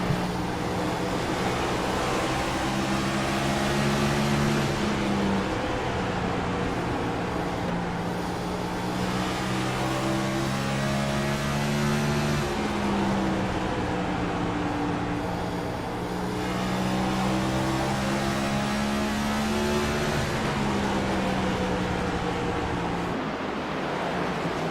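Onboard engine of the number 38 stock car in a Cup Series race at Bristol, a loud, continuous droning roar that rises and falls in pitch as the driver works through the laps, with no talk over it.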